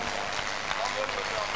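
A crusade congregation claps in a dense, continuous wash of applause, a broad hissing roar of many hands with no distinct individual claps, steady over a short stretch.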